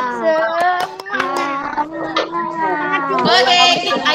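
Primary school children doing the tepuk semangat clapping routine in a class, with a led rhythmic pattern of sharp hand claps mixed with voices chanting and calling along, close and lively.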